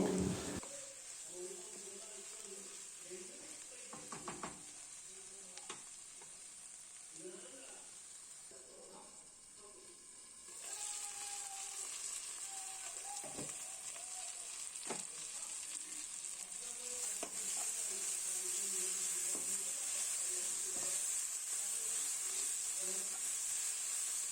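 Tomatoes and onions sautéing in a pan for chicken curry give a steady frying sizzle and hiss throughout, with occasional stirring scrapes and soft clinks, building slightly louder in the second half.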